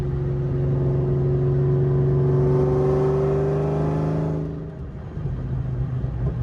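A 750 hp 2004 Ford Mustang Cobra SVT engine pulls hard under load with a loud, rising drone, then briefly dips as it shifts from fourth into fifth gear and settles into a lower rumble.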